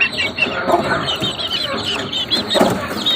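Asil chicken clucking on a farm, several soft short clucks in an irregular rhythm, fairly close, with no talk over them.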